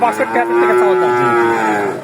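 A single cow at a cattle market gives one loud, close, drawn-out moo lasting about two seconds.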